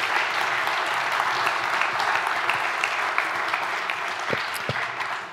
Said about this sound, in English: Another round of applause for Larry Gragg